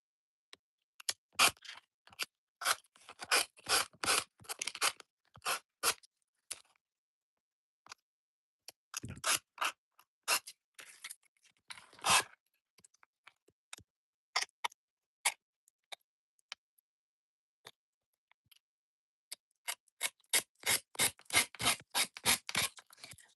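A nail file scrapes back and forth across a craft piece in bursts of quick, rhythmic rasping strokes, close and fairly loud, with short pauses between runs and no talking.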